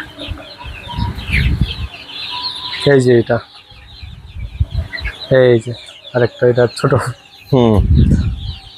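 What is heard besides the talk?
chickens clucking on a rooftop farm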